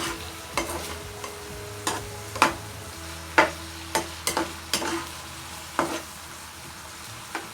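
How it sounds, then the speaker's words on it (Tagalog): Squid adobo with coconut milk and vinegar stirred in a pan, a spoon scraping and clinking against the metal in irregular taps over a steady low simmering sizzle, with no talk. "Haluin lang natin."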